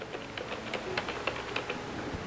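Fingers tap out quick, uneven keystrokes on a computer keyboard at an assistive-technology workstation for blind users, close and clicky with short pauses between bursts.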